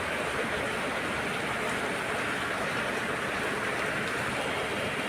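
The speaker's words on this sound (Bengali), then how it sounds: "আজকে বৃষ্টি হইতেছে সকাল থেকেই" Steady rain has been falling since morning over a coconut grove laden with nuts under a clouded sky around Dhaka, making a dense, even hiss that stays constant throughout with no voices.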